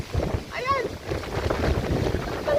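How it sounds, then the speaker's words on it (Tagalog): Strong wind blows during Typhoon Kristine in 2024 in Ragay, Camarines Sur, buffeting the microphone in uneven gusts. Someone talks over it, and there is a faint whistling sweep. "Lakas ng hangin."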